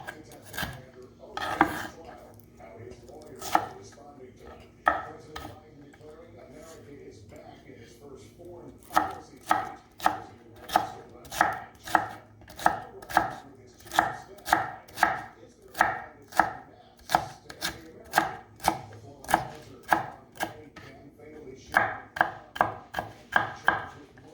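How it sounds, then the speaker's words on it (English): Green pepper being chopped small with a knife on a board, sparse cuts at first, then a steady run of crisp, evenly spaced chops, close and clear. "Green pepper also cut small."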